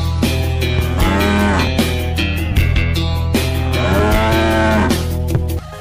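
A Limousin cow lows loudly and close, with long drawn-out moos repeating over a steady low hum in the background.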